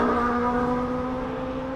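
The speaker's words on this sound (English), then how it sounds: "We're just gonna wait for a couple of passes to see how good this car sounds on the road." A car passes by on a street, its engine giving a steady loud tonal drone that eases only slightly as it goes by, with no talking.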